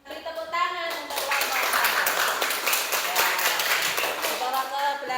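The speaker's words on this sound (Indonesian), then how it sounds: "Beri tepuk tangan untuk" A classroom audience claps for a group's presentation on making a cardboard piggy bank, a sustained burst of many hands that fades out after about five seconds, with voices mixed in.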